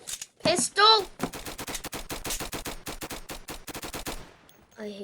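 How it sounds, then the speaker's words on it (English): Rapid pistol gunshots ring out in the Flag Wars video game: a dense string of sharp, evenly spaced cracks fired in quick succession, loud and close, with a couple of clicking reload-like sounds at the start and end. "The pistol's horrible. Reload, you pistol!"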